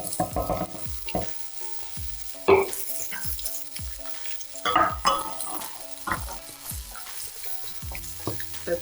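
Spicy tomato sauce with black olives simmering and frying in a pan, a close, steady crackling sizzle with repeated stirring scrapes and occasional light clinks of utensil against pan, no talking.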